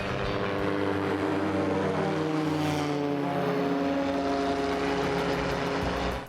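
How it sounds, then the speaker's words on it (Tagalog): Light airplane engine during a very short takeoff roll and liftoff on a flight over Mati, Davao: a loud, steady propeller drone that holds close and constant throughout, with no talk. "how short the takeoff roll of this airplane was, as we literally jumped off the ground"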